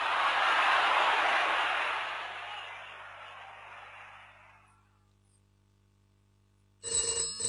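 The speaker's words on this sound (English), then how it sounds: "There's the phone." A telephone bell rings loudly and then fades away over several seconds. After a pause a sharp new ring bursts in near the end.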